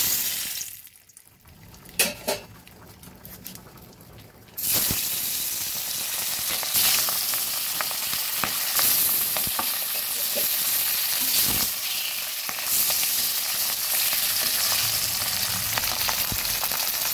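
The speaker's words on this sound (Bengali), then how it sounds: "এবার আমি মাছগুলো ভেজে নিচ্ছি" Pabda fish fry in hot oil in a wok, starting with scattered spits and pops, then bursting into a loud, continuous crackling sizzle that holds steady close by.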